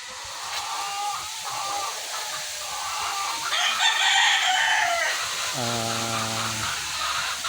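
Hens cluck and chatter close by in a backyard chicken pen beside a small vegetable garden, then a rooster lets out a long, loud crow that rises and falls before trailing off.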